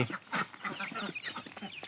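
Several chickens cluck in short, scattered bursts close by, with a busy rustling background and no talking.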